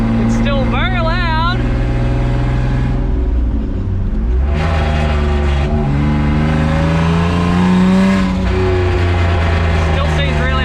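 A turbocharged BMW E36 engine roars and whines steadily as the car drives, with revving pitch shifts throughout; a voice can be heard over the noise.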